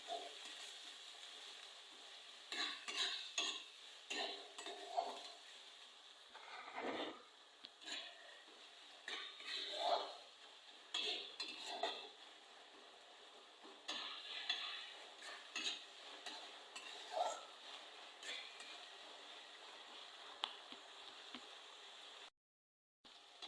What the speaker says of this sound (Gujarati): અને મરચું અને આપણે સરસ સાતળવાનું છે તેલનું